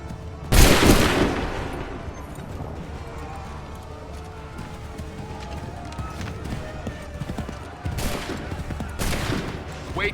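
Musket volleys fire in Assassin's Creed 3, with a loud close crack of gunfire early on and another ragged volley near the end, and shouted voices and battlefield bustle between them.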